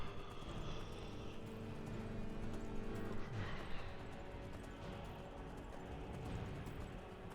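In the video game Skyrim, horse hooves clip-clop steadily under a dense wash of ambient game noise, moderately faint and continuous, with no talk.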